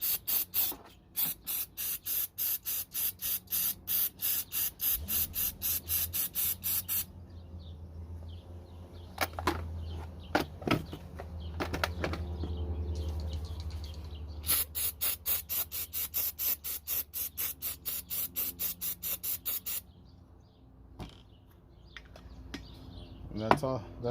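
Aerosol mass airflow sensor cleaner sprayed onto the sensor of a Toyota Prius (2005 or 2010) in bursts: loud hissing spray pulses repeat rapidly, then longer sprays continue after a short pause.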